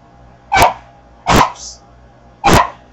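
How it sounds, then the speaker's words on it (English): A dog barks three times, each bark short, sharp and close, spaced about a second apart over a quiet background with no talking. "Oh, there goes the doggy."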